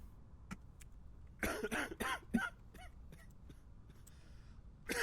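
A sick patient coughs in the video game Quarantine Zone, giving several close, harsh bursts clustered together, then a couple of sharper single coughs and a final burst after a short quiet gap.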